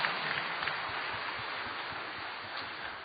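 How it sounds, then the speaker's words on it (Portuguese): Warm applause from a church congregation honoring Our Lady of Perpetual Help after a morning novena Mass, a steady dense wash of clapping that holds evenly for about three seconds with no voices over it. "saudemos Nossa Senhora com uma calorosa salva de palmas."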